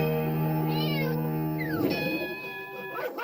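A cat named Billy, a sneaky food-snatching house cat, lets out a long wavering meow with pitch slides, close and steady, with no talk.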